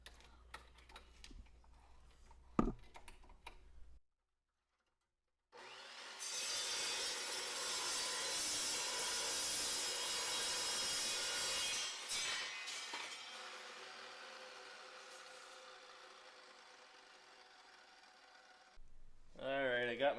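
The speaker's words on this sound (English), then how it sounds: "if you don't have a metal chop saw like this, you can afford one. These things save so much time in cutting a heavy piece of steel like this." A metal chop saw cuts through a heavy piece of steel while building a tractor hitch, a loud sustained grinding whine running about seven seconds, easing off toward the end, with brief handling noises before and after.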